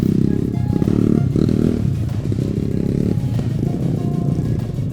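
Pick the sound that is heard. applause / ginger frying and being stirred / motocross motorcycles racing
motocross motorcycles racing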